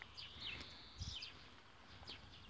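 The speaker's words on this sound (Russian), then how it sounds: "Птички поют" Songbirds chirping on a spring morning outdoors in the countryside, with short scattered high tweets that are faint and distant against a quiet background broken by a few low thumps.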